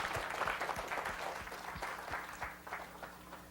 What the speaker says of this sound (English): If you please join me in one more round of applause to thank